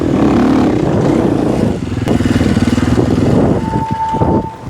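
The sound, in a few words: 4-stroke enduro motorcycle running in second gear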